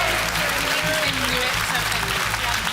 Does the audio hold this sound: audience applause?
yes